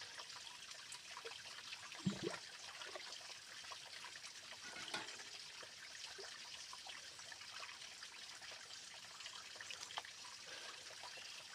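Filtered water runs in a steady, faint trickle at a home during a Ganga puja, a continuous gentle flow with one brief splash early on.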